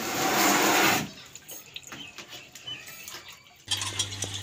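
Tap water gushes steadily for about a second, loud and close, while dishes are washed at a home sink with a faulty tap; quieter clinks and handling noises follow before the water runs again near the end.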